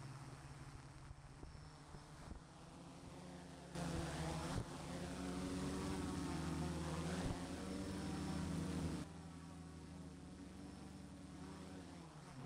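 A 3D printed drone spins up and takes off, its motors giving a steady buzzing whir that swells louder in the middle and then eases back, heard alone at moderate distance.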